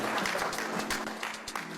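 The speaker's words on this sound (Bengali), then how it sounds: "তার জন্য প্লিজ একটা জোরে করতালি হয়ে যায়।" An audience at a film event claps for an honoree, a short burst of steady applause from many hands, close and fairly loud, with a low murmur underneath.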